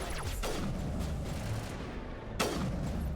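Two heavy gunshots boom in Mass Effect 1, one near the start and one about two seconds later, set against a dense, noisy combat background.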